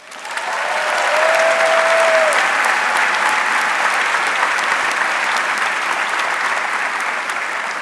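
Applause for award winners at a kinesiology commencement ceremony, a large crowd clapping in a dense, sustained wash that swells within the first second and stays loud and even throughout.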